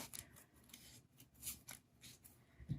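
Scissors snip through paper for flower petals, cutting a piece in half with several short, crisp strokes, faint and close with small pauses between cuts.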